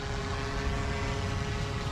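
An industrial drone climbs with its propellers whirring in a steady, loud, even drone with a constant hum running through it, heard alone.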